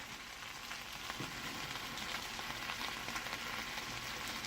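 Sausage fries and gets stirred in a pan, a steady close hiss of sizzling fat with soft scraping and crackle throughout, no voices over it.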